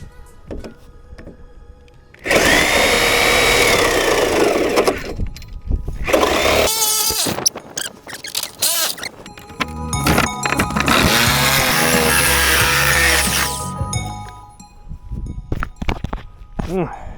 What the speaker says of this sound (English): We're about to cut this thing in half